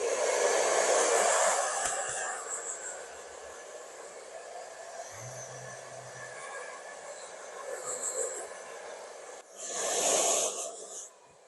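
A hair dryer blows with a steady, loud rushing whir, fading slightly in the middle and swelling again near the end, without speech, during a child's haircut.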